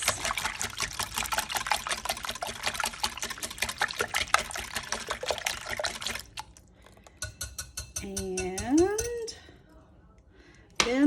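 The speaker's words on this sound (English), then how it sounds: "So I'm going to just whisk this" A whisk beats a creamy breakfast mixture seasoned with salt and pepper, a fast steady rhythm of clicks and sloshing against the bowl for about six seconds, close; it then stops and a person talks.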